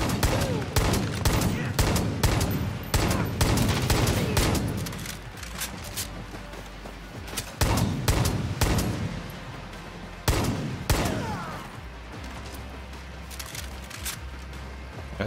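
Repeated gunfire bursts from the video game Far Cry: New Dawn, loud sharp shots in clusters with rattling volleys and booming reports, some isolated single shots, over a steady game background rumble.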